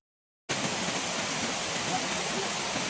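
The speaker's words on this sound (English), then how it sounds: "Sherman Falls is a 17-meter high curtain waterfall" Sherman Falls, a 17-meter curtain waterfall on the Bruce Trail near Hamilton, roaring as a dense, steady broadband rush that starts abruptly after a moment of silence and continues loud and close.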